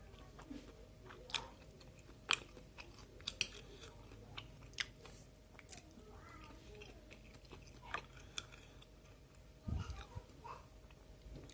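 Someone quietly chews tofu from Indonesian street-food cilok close to the mic, with soft, irregular mouth clicks and small crunchy bites over a faint background hum.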